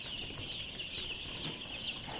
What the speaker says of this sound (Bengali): এখানে প্রায় 2500 লেয়ার বাচ্চা রয়েছে।